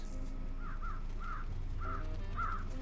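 Crows caw in a video game, a series of about four harsh, separate calls spaced roughly half a second apart over a steady low background hum, moderately clear and near.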